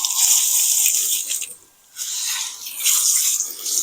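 Water runs steadily from an outdoor hand-washing station as freshly harvested turmeric roots are rinsed; the loud, close hiss briefly drops away and then resumes, with no voices.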